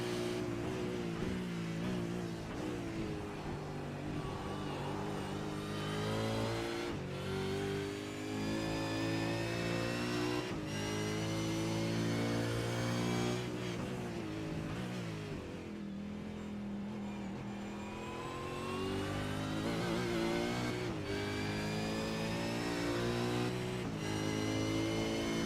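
Race car engines at Bathurst in iRacing, a high-revving engine climbing and dropping through gear changes, loud and continuous with brief shifts and lifts for corners.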